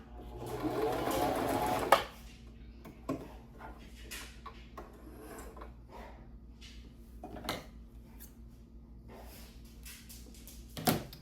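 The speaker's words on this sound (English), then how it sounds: "I'm just going to test it on a piece of scrap fabric that I have. My arm is down, and I'm going to start sewing." A household sewing machine runs a straight stitch across a scrap of fabric in one loud, steady whirring burst of about two seconds, then stops, leaving faint clicks and handling noises in a quiet room.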